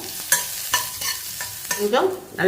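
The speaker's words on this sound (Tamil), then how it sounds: "இதை வந்து நல்லா வதக்கி விட்டுக்குருவோம்." Sliced onions being stirred and scraped in a hot pan, with a soft sizzle and several sharp spatula strokes, close up and without talk.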